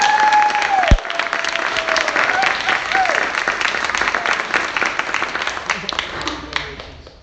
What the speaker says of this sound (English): Can we give Piper a big round of applause?